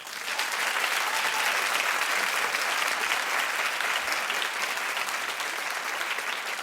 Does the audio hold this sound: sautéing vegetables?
no